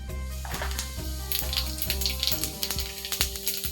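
Cumin seeds dropped into hot oil, reused from frying bhaji, for tempering a vegetable dish, sizzling loudly and close with crackling pops that grow busier toward the end, under a steady background hum.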